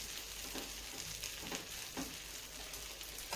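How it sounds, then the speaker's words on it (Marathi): A dosa roasting on a pan over a full gas flame gives a faint, steady sizzle with soft crackling throughout, quiet and unbroken, with no voices. "गॅसची फ्लेम फुल करून आपल्याला हे डोसा भाजून घ्यायचा आहे"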